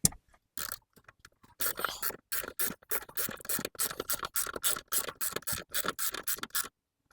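A long socket ratchets on the brake master cylinder of a Mini Cooper R50, producing bursts of sharp clicking strokes broken by short pauses and near silence at the start and end.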